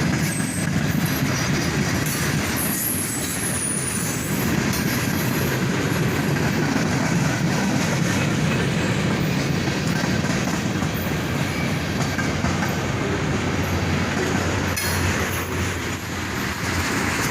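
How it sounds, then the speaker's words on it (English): A CSX freight train led by two EMD SD40-3 diesel locomotives rumbles past close by, a loud continuous roar with rhythmic clattering of wheels over rail joints and occasional squeals. "Dual EMDs lead this train in, as a pair of Sd40-3s are on point."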